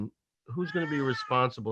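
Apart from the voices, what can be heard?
cat meowing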